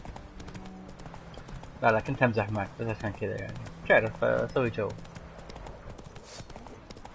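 Horse hooves clip-clop steadily in The Witcher 3 while someone talks over them in Arabic, the rhythmic footfalls sitting under his voice throughout.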